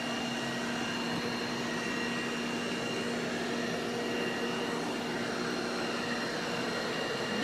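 An Ultenic TS1 robot vacuum mop, sweeping at the front and mopping at the rear, runs with a constant, fairly quiet whirring hum and a steady tonal whine that never changes.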